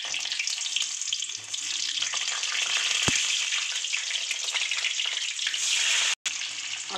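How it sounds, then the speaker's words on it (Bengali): Potatoes sizzle steadily in a hot pan while egg biryani is cooked, a continuous close frying hiss with faint stirring scrapes and no talk. "ভেজে নেব"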